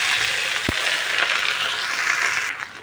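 Raw taro leaves hit a hot pan with a steady broad sizzle, frying continuously at close range, with a brief utensil tap early on.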